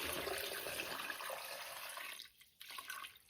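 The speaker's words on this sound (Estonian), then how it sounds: "nüüd ei jää muud üle, kui kallata vett peale" Water pours from a bucket into a pot in a steady, rushing splash that fades and briefly stops near the end, then resumes more softly; it is heard close up with no talking.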